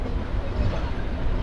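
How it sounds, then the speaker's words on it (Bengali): A passenger train pulls away from Tongi railway station in Bangladesh, a steady low rumble of wheels and carriage noise running continuously and fairly loud, with no clear clicks or horn. "তারপরে টঙ্গী রেলওয়ে স্টেশন থেকে ছেড়ে দিল আমাদের ট্রেন"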